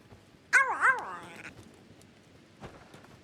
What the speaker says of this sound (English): Who's barking?